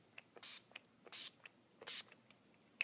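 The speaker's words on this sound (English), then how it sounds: "I'm going to use our 10 Years Younger finishing spray" 10 Years Younger makeup finishing spray is misted in three short, hissing bursts, close and quiet, with faint clicks of the nozzle between them.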